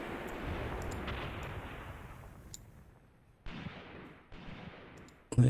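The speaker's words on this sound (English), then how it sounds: "Let's get back to our artillery." Artillery fire in the video game Graviteam Tactics: a rolling distant boom fades slowly, then two more muffled blasts follow at intervals before a sharp final report, all without talk.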